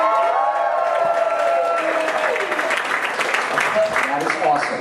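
An audience at a tribute event claps, cheers and hollers together, dense applause with shouts rising over it and holding loud for the whole stretch.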